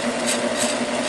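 A drill bores a 3/8 inch hole straight through thin birdhouse wood about 3/8 inch thick, giving a steady, close, loud whirring grind that holds evenly from start to finish with no talking.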